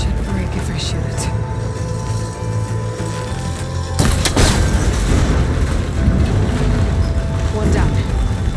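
A sharp crack as an arrow strikes and snaps a cable connector in Horizon Forbidden West, a sudden loud impact with a brief breaking clatter midway, over steady low wind and game ambience, with a voice talking beforehand.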